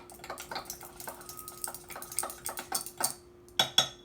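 A spoon clinks and scrapes against a bowl in quick, uneven strokes, a light rhythmic tapping and swishing close by.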